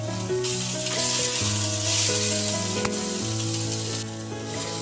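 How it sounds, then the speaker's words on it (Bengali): Coriander leaves and spices sizzle steadily in oil in a pan, a continuous close frying hiss with a constant tonal hum running beneath it. "এটাকে আরেকটু ভালো করে ফ্রাই করে নিতে হবে"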